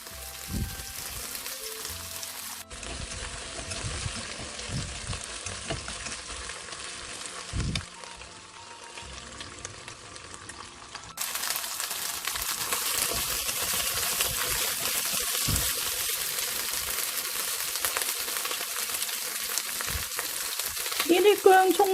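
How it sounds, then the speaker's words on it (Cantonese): Chicken wings pan-fry with ginger, scallion and garlic in a hot pan, giving a steady close sizzle that swells louder partway through, with occasional stirring scrapes and no talking. "我哋再煎佢一陣"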